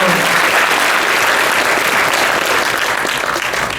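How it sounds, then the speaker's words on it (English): Audience applause after a film screening at a premiere panel: dense, loud clapping from a full room that holds steady for about four seconds and then begins to taper off, with no voices over it. "So can we just give that a round of applause?"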